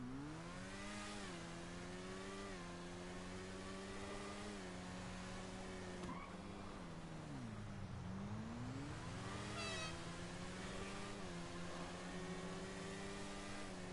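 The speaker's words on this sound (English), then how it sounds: "I'll get this thing up to max speed and start swerving around cars." A video-game car engine revs and accelerates at high speed for the whole stretch, its pitch rising and falling through repeated gear-like sweeps, steady and continuous with no speech.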